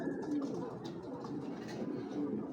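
Pigeons cooing at close range: a low, continuous throaty cooing that holds steady through the short stretch.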